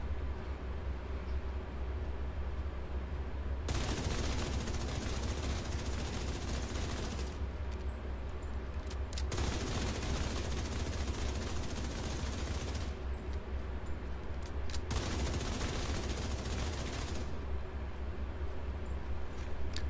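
Sustained automatic gunfire in The Division 2 as a group of targets is shot, loud continuous bursts broken by short pauses, several rounds of firing alternating with brief quieter gaps.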